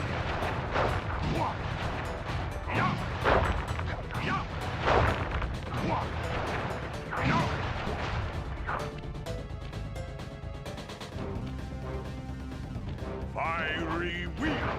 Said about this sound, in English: Still, to honor your Cooper ancestry, I will send you to your doom with the beauty of my new firework technique, Flame Fu.